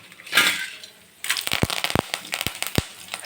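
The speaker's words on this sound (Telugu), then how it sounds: "ఆయిల్ వేడయ్యాక ఇందులో కొద్దిగా శనగపప్పు, మినపప్పు, కొద్దిగా పల్లీలు కూడా వేస్తే బాగుంటుందండి." Chana dal, urad dal and peanuts dropped into hot oil crackle and spit, starting with a soft hiss that breaks into a burst of sharp, close pops and sizzling.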